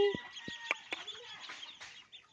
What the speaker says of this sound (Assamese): এয়া মামীহঁতৰ হাঁহ পুহিছে, হাঁহ পোৱালি দেখিছে